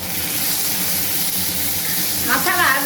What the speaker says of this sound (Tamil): வெங்காயம் போட்டு வதக்குறேன்